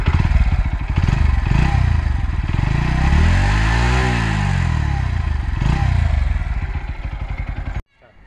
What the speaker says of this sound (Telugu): ఒకసారి దీని బీటింగ్ కూడా ఒకసారి మన ఎగ్జాస్ట్ నోట్ ఒకసారి చూద్దాం